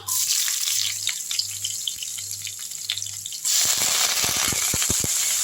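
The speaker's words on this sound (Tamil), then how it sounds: "கடுகு நல்லா பொரிஞ்சிடுச்சு. சாம்பார் வெங்காயத்தை எடுத்து போட்டுடலாம்." Small shallots dropped into hot oil with popped mustard seeds and fenugreek, sizzling loudly and steadily at close range while crackling pops burst out in quick, irregular bursts.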